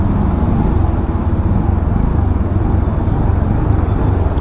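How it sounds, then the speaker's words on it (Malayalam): Honda Dio 125 scooter engine idling close up after a silent start: a loud, steady low hum and rumble with no change in pitch, throughout and with no voices. "പിന്നെ ഹോണ്ട ഡിയോ 125ൻ്റെ സൗണ്ട് ഒന്ന് കേൾക്കാം നമുക്ക്"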